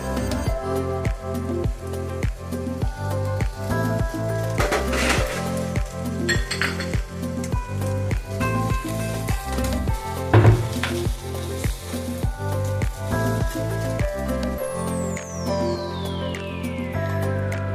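Boiled young jackfruit, rubbed with salt and turmeric, frying in a pan with a loud steady sizzle, repeated metal spoon clinks and stirring scrapes, over background music.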